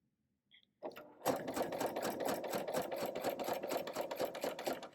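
A BERNINA sewing machine fitted with a piping foot starts up after a brief click and runs steadily, stitching with a fast, even mechanical rhythm at close range.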